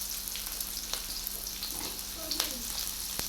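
Carrots fry for cauliflower Manchurian in a hot pan, giving a steady oily sizzle with occasional stirring scrapes and clicks throughout.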